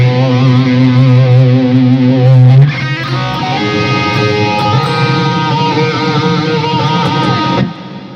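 Loud distorted electric guitar with lots of reverb, playing a sustained chord through an MXR Phase 90 Eddie Van Halen model phaser, giving a swirling, sweeping texture, then a shift to busier riffing before it cuts off.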